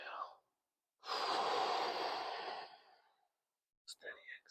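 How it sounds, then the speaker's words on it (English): A big, deliberate inhale during a yoga breathing exercise: one long, airy breath drawn in close to the mic for about two seconds, with brief bits of voice just before and after. "Big inhale."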